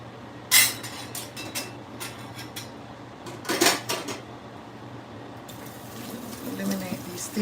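Dishes clatter in a kitchen sink as it is cleared, with a few sharp clinks and knocks spaced apart over a steady background hum and some softer rattling toward the end.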